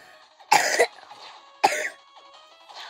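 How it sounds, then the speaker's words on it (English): Two sharp, close coughs about a second apart, with quiet between them. "I forgot I had a cough"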